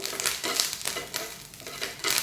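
Ingredients dry-roasting in a pan under steady stirring, a continuous close gritty rustle and light sizzle rising and falling in quick repeated sweeps.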